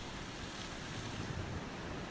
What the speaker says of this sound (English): A wave retreats, again and again, day after day, year after year.